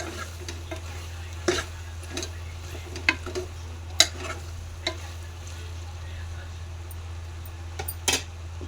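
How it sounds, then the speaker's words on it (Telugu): Goat tripe frying with ginger and mint for Telangana-style boti curry gives a faint, steady sizzle close by, with scattered stirring clicks of a utensil against the pan and no talking. "అల్లంలో అండ్ పుదీనాతో బోటి అనేది ఫ్రై అయిపోయింది చాలా బాగా"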